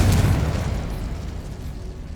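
Explosive burst from Incendio and Confringo spells in the video game Hogwarts Legacy: a loud boom at the start with low rumble that slowly fades, no speech.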